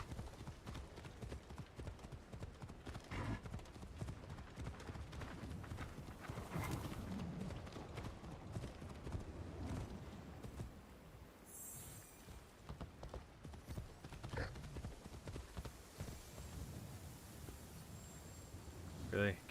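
Horse hooves clip-clop at a steady pace while riding in a video game, a rhythmic trotting patter with occasional louder hits and voices talking over it.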